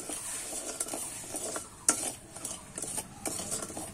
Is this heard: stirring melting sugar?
yes